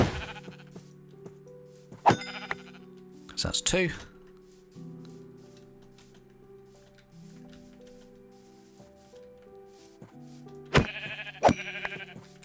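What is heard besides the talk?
sheep bleating, from video game Minecraft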